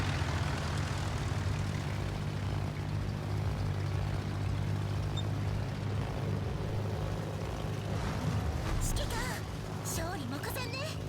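Fighter planes in World of Warships drone with a continuous propeller-engine hum over a low rumble, while voices chatter in the background.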